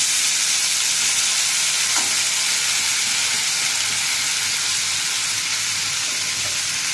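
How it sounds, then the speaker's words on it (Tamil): Strained sago pearls fry in hot ghee for sago kesari, a loud, steady, close sizzle that hisses on without a break and with no voices. "இந்த வடிகட்டின ஜவ்வரிசி இதை தூக்கி அப்படியே இந்த நெய்யில் போட்டுடணும்"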